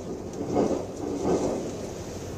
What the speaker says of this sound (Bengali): এর প্রভাবে শুরু হয়েছে ভারী বৃষ্টিপাত ও প্রবল বাতাস।